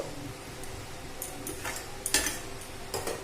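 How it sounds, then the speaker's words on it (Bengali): A spoon scrapes and knocks against a pan while okra simmers in a yogurt curry, giving a few sharp clinks and stirring scrapes over a soft, constant bubbling sizzle. "আমি একসাথে মাখিয়ে আবার কিছুক্ষণ হতে দেব।"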